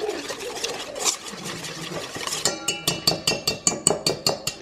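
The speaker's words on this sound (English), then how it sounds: "the remaining sugar, the softened butter, and the egg. And I'm just gonna whisk all of this together" Sugar, softened butter and egg whisked together in a bowl for potato roll dough, a quick run of rhythmic clinking strokes of the whisk against the bowl, close and fairly loud, following a few softer scrapes.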